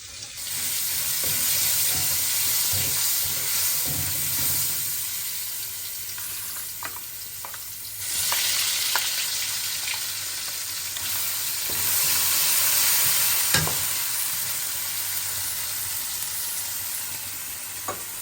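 Garlic, cumin, poppy seed, mustard, onion and a little ginger sizzle steadily in hot oil in a pan, with a loud continuous hiss, occasional scraping stirs and a brief surge midway, and no talk.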